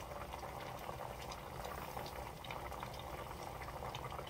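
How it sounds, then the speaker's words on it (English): Cooking liquid from slow-cooked beef short ribs boils hard in a pot while reducing, a continuous bubbling and hissing that stays quiet and steady without pause. "So I'm going to let that keep boiling off a little bit more."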